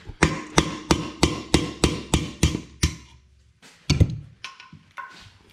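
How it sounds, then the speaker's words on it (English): A hammer drives a punch against the governor shaft of a Tillotson 212 engine, striking about eight evenly spaced, sharp metallic blows close by, then a few scattered lighter taps after a pause. "We're gonna tap that out with a punch and a hammer."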